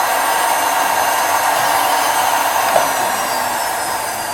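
Wood lathe spinning while a metal-lathe parting tool cuts a spiral cove, giving a continuous loud whirring drone with a steady, even tone throughout.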